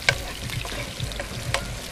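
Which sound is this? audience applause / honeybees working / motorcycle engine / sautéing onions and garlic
sautéing onions and garlic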